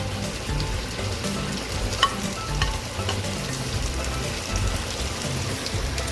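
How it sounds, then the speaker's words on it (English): Carrots and onions fry in pork fat, a steady close sizzle with occasional stirring scrapes and pops, and no voices. "After those onions get a little bit brown, you're going to add your carrots into there."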